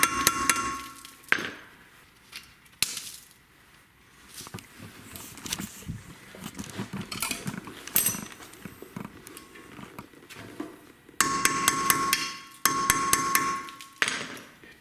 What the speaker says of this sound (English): Tapping with the hammer breaks the rust.